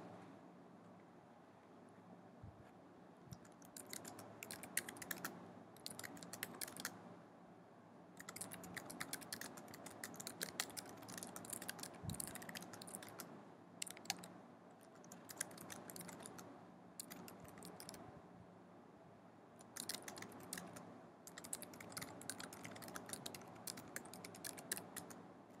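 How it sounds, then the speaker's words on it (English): Rapid keyboard typing on a computer while coding an Android Kotlin app, clusters of light clicking keystrokes in bursts with short pauses, close but quiet over a steady background hum. "I'm going to type something a bit longer"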